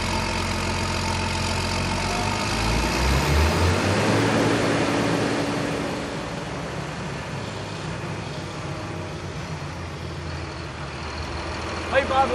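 Tractor engine under heavy load on a dyno, a loud steady drone that sags as the revs are pulled right down, with voices talking over it.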